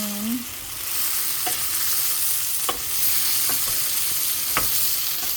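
Sardines being stirred in a pan with a splash of water and salt for a budget sardine and upo dish: a steady sizzle carries throughout, broken by several scrapes of a utensil against the pan.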